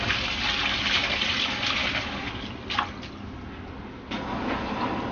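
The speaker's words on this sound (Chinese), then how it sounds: "洗一下，然后再用水给它泡一下，让变软的莴笋丝处理进来。" Running water pours steadily while shredded stem lettuce is washed and soaked, a close, continuous gushing wash with a couple of brief splashy shifts partway through.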